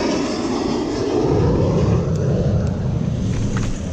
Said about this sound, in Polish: I samolot.